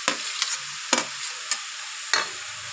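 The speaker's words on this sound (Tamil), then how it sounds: "இப்போது முள்ளங்கியை நல்லா வதக்கிக்கலாம்." Radish and tomato sautéed in oil in a kadai, with about five sharp spatula scrapes spaced irregularly over a soft, steady sizzle, close and clear with no talking.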